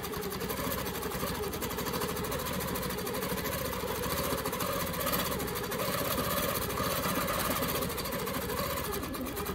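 The gears of a longarm quilting machine run in a continuous, dense mechanical drone with a fast rattling pulse. The sound is steady and close throughout, with no pauses.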